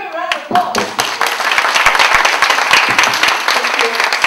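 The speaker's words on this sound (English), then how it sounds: "Give him a round of applause." A full round of applause from a seminar audience at a talk on coaching teens, dense and close. A voice is briefly heard at the start before the steady clapping takes over.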